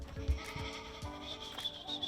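Escaped goats bleat in quick, wavering cries, fairly close and moderately loud, with a steady background hum and no voices.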